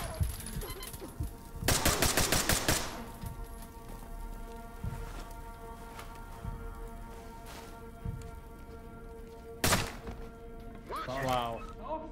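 Gunfire in the tactical shooter game Ready or Not: rapid automatic bursts and scattered single shots, some sharp and close, others fainter, with in-game radio chatter and talk in between.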